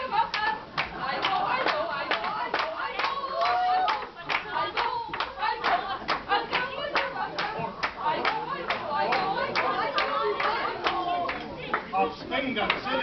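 Audience clapping in a courtroom-style hearing, dense irregular hand claps running steadily for several seconds at close range, with voices mixed underneath.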